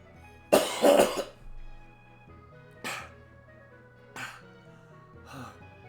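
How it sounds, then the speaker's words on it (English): A man coughs hard in a loud burst near the start, followed by three quieter, shorter coughs spaced across the following seconds, close to the microphone over a faint steady background hum. "Yeah, that's that cough"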